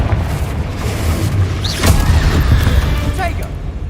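A Confringo explosive spell blast in the video game Hogwarts Legacy, a heavy low boom with a rumbling burst in the middle, under a voice speaking.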